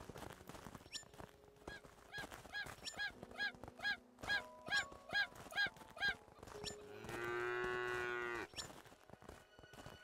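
Cows in the video game Craftopia moo in a string of short, rhythmic game calls, then give one longer, drawn-out moo near the end, loud and close with no talk.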